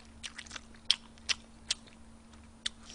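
Close, wet chewing of a moist, flattened pan-fried dumpling, with several soft crunchy bites spaced irregularly over a quiet background hum and no talking.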